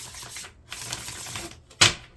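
Tarot cards shuffled by hand, a soft papery riffle of rustling card flutter ending in a short sharp snap as the deck settles, close and moderately loud.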